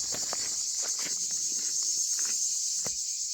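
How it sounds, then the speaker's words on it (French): Cicadas singing along a canal near Arles, a loud continuous high buzz held throughout, with soft footsteps crunching on a path close by beneath it. "toujours en compagnie des cigales"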